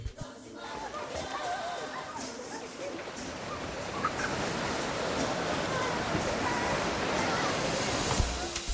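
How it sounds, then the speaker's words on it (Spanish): Artificial wave pool at a South African resort, its surf washing in a steady, loud broadband rush that stays even throughout, with no distinct single breakers standing out. "montones de entretenimientos como esta piscina de olas artificiales"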